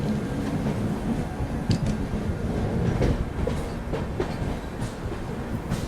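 The Pune–Nizamuddin Duronto Express runs on rails during the monsoon, with a continuous rumbling roar from inside the train and faint clatter and knocks layered over it.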